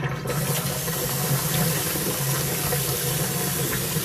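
Running water streams steadily over a sponge being rinsed, a close, constant splashing hiss with no break.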